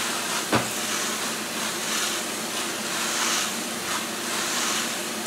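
Water pours steadily onto pea shoots in a loud, continuous rushing spray with slight surges and one brief knock near the start.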